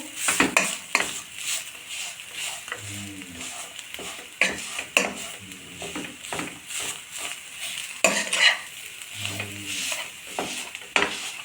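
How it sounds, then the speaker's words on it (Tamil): Soft cooked peas are crushed and mashed in a pan for veg cutlets, giving a steady run of squelching presses and scrapes with occasional louder knocks against the metal, close and without speech. "கொஞ்சம் அந்த பட்டாணியெல்லாம் கொஞ்சம் க்ரஷ் பண்ணிக்கலாம்"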